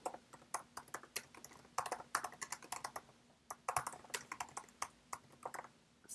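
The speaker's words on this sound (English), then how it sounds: "I will type it in." Rapid typing on a computer keyboard, with close, quiet key clicks in quick irregular bursts and brief pauses between words, with no talking.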